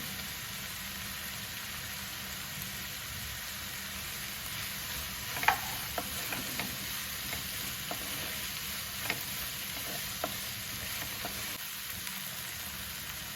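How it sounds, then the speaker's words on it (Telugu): Sweet corn and onions frying in a pan give a quiet, steady sizzling hiss, with occasional soft clicks and scrapes from stirring and no talking. "స్వీట్ కార్న్ కానీ వేయించుకోవాలి బాగా కొంచెం వేయించిన తర్వాత కట్ చేసిన చిల్లీ వేసుకోవాలి"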